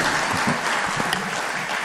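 Audience applause during a drug-awareness campaign talk event, a dense, steady patter of many hands clapping throughout, fairly close and loud, with no one speaking over it.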